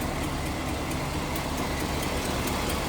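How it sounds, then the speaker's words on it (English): A 1947 Ford Deluxe sedan engine idles steadily, a constant broadband rumble with a faint, regular tick from a slight exhaust leak repeating roughly every quarter second. "Sounds like might be just a slight tick from an exhaust leak."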